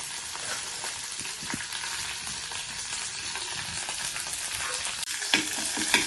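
Curry leaves fry in a pan with a steady, moderately loud sizzle and crackle that runs throughout, punctuated by a few sharper pops and a brief stir near the end.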